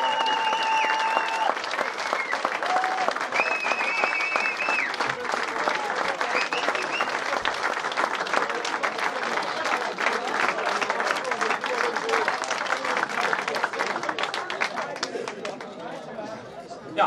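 Thunderous applause fills a café as DJs are welcomed back, steady and dense clapping with crowd chatter and some cheering running through the whole stretch before easing slightly at the end.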